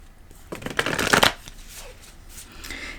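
Tarot cards riffle and slap through a brisk shuffle, loudest in a dense burst mid-clip before trailing off into lighter card handling, close and with no talking.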